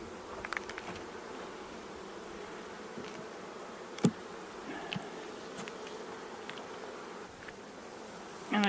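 Honeybees buzz at an open hive during an early spring inspection, a constant soft droning swarm close by, with occasional light knocks and clicks from handling the frames.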